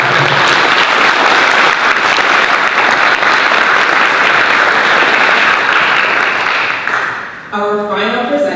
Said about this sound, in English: So please give our sponsors a round of applause.